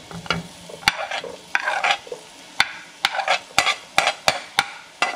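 Chopped onion frying in a pan for pastelitos de pollo, stirred with quick scraping strokes that come in a steady rhythm over a continuous close sizzle.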